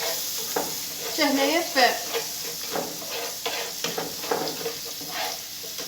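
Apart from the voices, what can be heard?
seafood filling with spices being stirred and fried in pan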